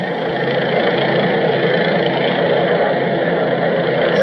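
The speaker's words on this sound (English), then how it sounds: "That's a helicopter." A steady, loud rotor and engine drone holds constant throughout, like a helicopter passing overhead, with no talking.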